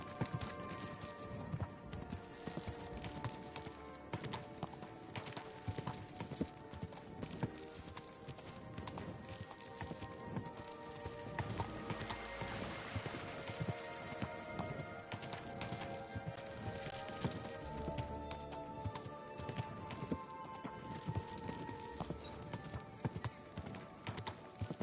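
Horse hooves clip-clop steadily in the medieval video game Kingdom Come: Deliverance 2, a continuous rhythmic walking gait with occasional whinnies, moderately close and heard alone.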